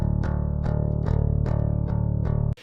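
A clean, unprocessed direct-input bass guitar playing steady repeated notes with distinct plucked attacks, about six notes evenly spaced, ending abruptly.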